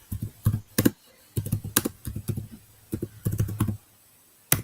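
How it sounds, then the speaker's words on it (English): Computer keyboard typing in bursts of rapid key clicks separated by short pauses, close and fairly loud, with no voices. "He's typing something."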